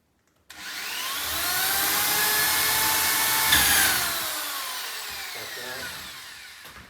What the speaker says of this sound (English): when you start drilling that, it's going to find that other hole